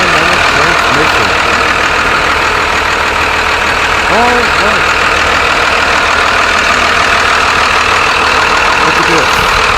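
A Cummins ISB 5.9-liter turbo diesel idles steadily in a 2000 Blue Bird TC2000 school bus, a loud continuous low rumble throughout with someone speaking briefly over it.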